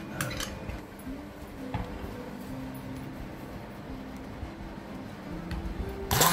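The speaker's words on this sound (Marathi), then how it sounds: "ते आपण फेटून घेऊया।" Fresh cream being whisked by hand in a bowl for mango ice cream, giving a steady, close clatter and clinking of the whisk against the bowl.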